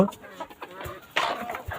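Desi chickens in a homestead pen give a few soft, scattered clucks close by, mixed with light handling noise and faint background sounds.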